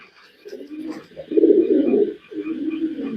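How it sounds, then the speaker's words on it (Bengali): Female pigeon at a pigeon seller's, soft throaty cooing in a few rolling phrases, close and clear with faint background sounds. "এই যে এখানে এক পিস মাদি কবুতর দেখেন"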